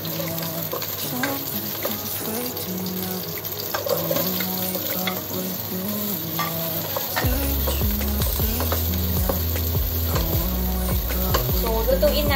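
Ginger sizzling in hot oil in a pan over high heat, a loud continuous crackle that grows denser partway through, with stirring clatter.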